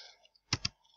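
A couple of quick, crisp clicks from typing on a computer keyboard, heard close and quiet against near silence.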